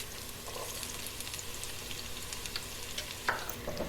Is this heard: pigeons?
no